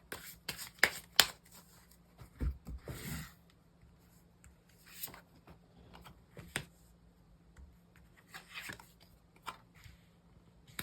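Tarot cards are shuffled and drawn during a quiet reading, with soft riffling bursts, crisp slaps and brushing card sounds in irregular clusters separated by near silence, close and fairly faint.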